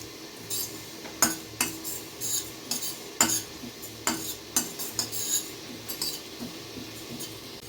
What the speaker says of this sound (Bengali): দেখো সুন্দর করে ভেজে নিচ্ছি এটা।